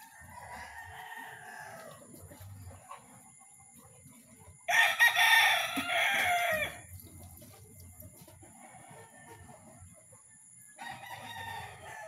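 A pet rooster crows once loudly and close at feeding time, a single strong cock-a-doodle-doo standing out from quieter clucking and farmyard background.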